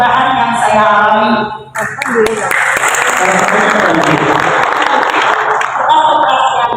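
An audience applauds a woman at an indoor product testimonial event for Kangen juice, the dense clapping swelling after a brief pause and continuing steadily and loudly, with voices audible at the start.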